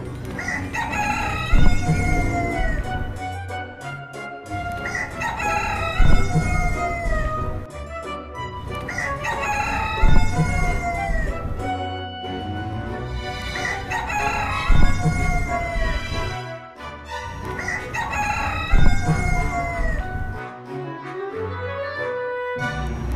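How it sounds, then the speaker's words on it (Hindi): A giant rooster in a comic Hindi cartoon story crows loudly again and again, long rising and falling cock-a-doodle-doo calls repeating about every four seconds, with busy background sound underneath. "अगले दिन सुबह में वो बड़ा मुर्गी भूख के मारे जोर जोर से चिल्लाने लगा।"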